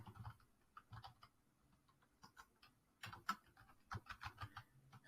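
A user ID is typed on a computer keyboard. Soft, close keystrokes come in irregular clusters with short pauses, then a faster run toward the end, and no one speaks.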